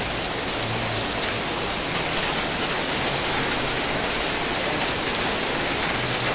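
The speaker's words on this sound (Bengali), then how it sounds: "প্রচণ্ড বৃষ্টি হইতেছে নোয়াখালীতে আজকে।" Heavy rain pours steadily during flooding in Noakhali, a dense, continuous hiss of downpour on surfaces, loud and unbroken throughout with no voices.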